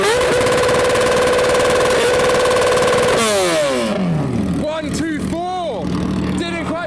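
Suzuki motorcycle engine held at high revs during a rev battle, loud and buzzing, then dropping and blipping up and down while people talk and cheer nearby.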